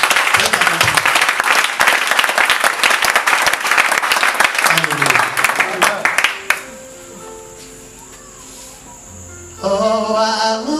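A church congregation bursts into loud, dense clapping and applause for about six seconds, then it drops away, leaving sustained keyboard tones and a voice.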